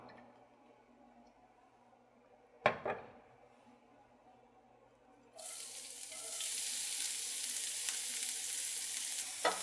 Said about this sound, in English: When you start with these aromatics, the garlic and the onion, you gotta really brown them